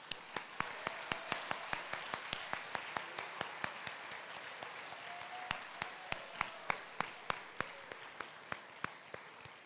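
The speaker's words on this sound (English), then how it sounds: "Can we give them one more round of applause?" At a high school CTE ceremony, one more round of applause for the program completers comes through as faint, evenly spaced claps in a steady rhythm, fairly distant, with no talk over it.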